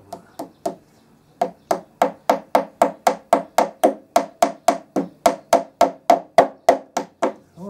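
Hammer striking something in the centre of a door, a long run of sharp, evenly spaced blows after a couple of opening taps, loud and close with no talking.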